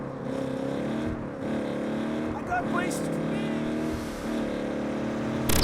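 A throaty hot rod car engine in the video game Saints Row (2022) revs and drops in pitch repeatedly, a loud rumbling sound with brief shifts and surges.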